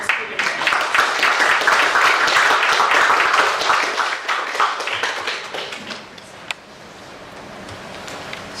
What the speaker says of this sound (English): So please welcome and give a round of applause for Mr. Steven Jenner.